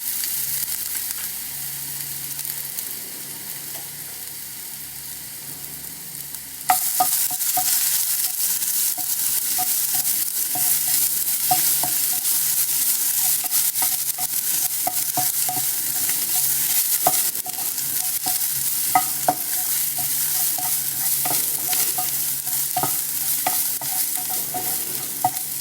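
Ginger and garlic frying in two tablespoons of hot coconut oil in a pan, a steady close sizzle that jumps louder partway through as the pieces hit the oil, with occasional stirring clicks and no talk.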